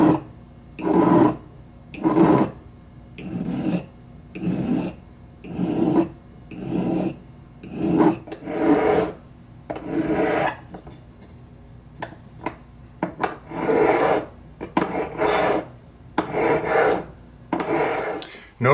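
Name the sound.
filing metal bezel with a file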